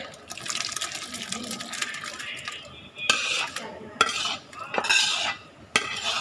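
Liquid poured into a large pot of Thai rice noodle soup with clinks and scraping of cookware, a few sharp metallic knocks near the end, with talk in the background.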